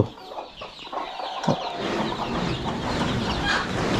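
Free-range village hens in a small Konkan backyard poultry farm cluck and chatter in short, irregular bursts, close to the listener, with several birds calling over each other.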